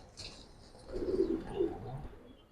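Giribaz pigeons coo close by in a short, soft run of low rolling calls, rising briefly after a quiet start and fading again.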